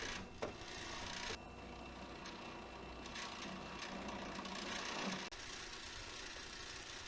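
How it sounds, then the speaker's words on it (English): A Zebra ZXP Series 7 card printer feeds a cleaning card through to clean its rollers, a steady mechanical whir and hum with a few soft clicks and clunks along the way. "it'll pull itself in, and when it's done doing its cleaning process, it will eject that cleaning card"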